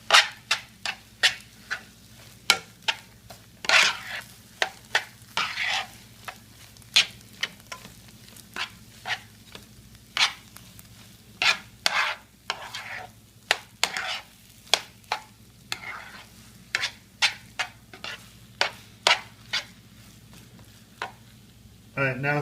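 A spoon stirs a hash brown casserole mixture in a bowl, making repeated soft, wet scraping strokes in an uneven rhythm over a quiet background hum.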